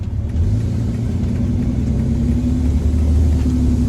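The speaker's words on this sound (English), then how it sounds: "I'm about to start driving" A car engine rumbles steadily up close with a low, even drone, holding a constant idle-like tone as the vehicle gets ready to pull away.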